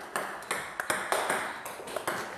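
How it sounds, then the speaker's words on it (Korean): Table tennis ball struck with a paddle by a lone player with Parkinson's practising at home, a run of about eight sharp, bright pings in an irregular rhythm, each with a short ringing tail. "비틀거리는 몸 때문에 빗 맞는 공이 더 많지만 혼자서 하루에 수백 개가 넘는 공을 쳐낸다"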